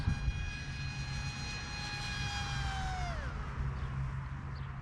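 A performance-modified RC jet streaks past at high speed, its sharp turbine whine holding steady and then dropping in pitch as it passes and recedes. The sound is loud and continuous, with no talking.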